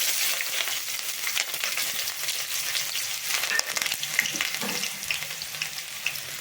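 Onions sauté in hot oil with popped mustard seeds and curry leaves, giving a continuous bright crackling sizzle with occasional stirring scrapes, close and steady throughout, and no speech.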